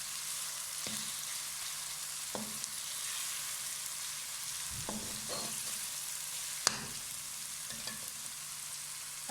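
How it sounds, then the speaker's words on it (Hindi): Onion and ginger-garlic paste frying in a pan, a steady, even hiss throughout with a handful of sharp spoon clicks scattered across it, fairly quiet and without speech. "हल्का सा हम इसे भी फ्राई करेंगे।"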